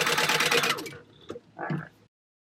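A sewing machine runs a quick one-second burst of rapid stitching through fabric at a 4-stitch length, then gives a couple of faint mechanical clicks and a short whir before stopping.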